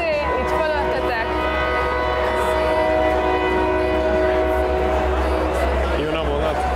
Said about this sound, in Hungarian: Jön a vonat.